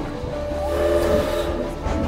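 A roller coaster train at the Winteramazing fair rolls past with a steady rumbling roar and a faint high whine, loud and fairly close, with no talking over it.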